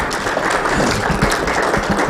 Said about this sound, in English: Let's give Harry a round of applause for this great insight he's been bringing to us.